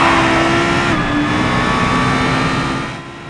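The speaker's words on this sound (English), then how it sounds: "Car sounds are really good for their age, especially when viewed in first-person camera view." A video game car engine roars steadily at close range, heard from first-person camera view, a sustained revving drone with a slight pitch shift midway, fading a little at the end.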